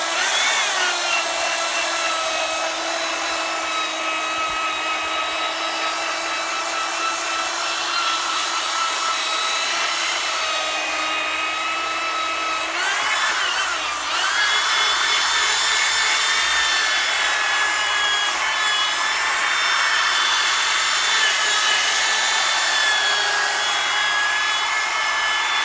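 A machine polisher buffs a plastic car headlight lens, giving a steady, loud high whine and rubbing hum that holds for the whole stretch with a brief dip partway, and no talk over it.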